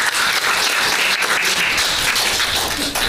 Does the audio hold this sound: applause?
yes